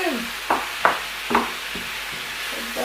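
Chicken and vegetables frying in a pan for Cantonese-style fried rice, with a steady sizzle broken by several sharp stirring scrapes and bursts, close and moderately loud.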